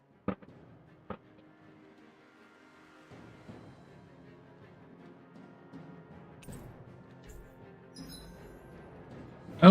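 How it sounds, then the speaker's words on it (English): Distant fireworks launched within a video game give a few sharp, isolated bangs, one near the start and another at the end, over quiet ambient game sound with faint background tones. "the bangs you might hear from time to time is coming from some firework that's launched in the distance"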